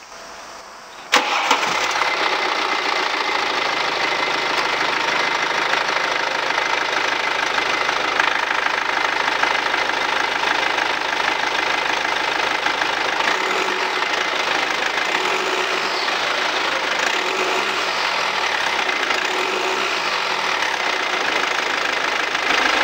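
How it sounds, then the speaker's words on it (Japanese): A BMW 523d M Sport diesel cranks over and fires after about a second, then settles into a steady, slightly knocking idle that stays loud and close, with no talking. "ちょっとエンジンかけてみたいと思います"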